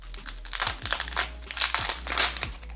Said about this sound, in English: now we're just gonna peel out this outer layer of the onion